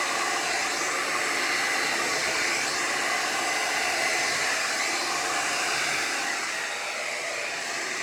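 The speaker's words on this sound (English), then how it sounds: "Hair dryer, I push this because I want cool air, not warm air." Hair dryer on its cool setting blowing steadily onto resin paint for a Halloween pigment piece, a continuous loud broadband whoosh with no breaks and no voices.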